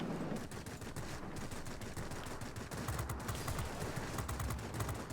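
Rapid automatic fire from four 23mm aircraft cannons of an Antonov M in World of Warplanes rattles continuously in dense bursts, loud and close, over a rumbling engine-like background.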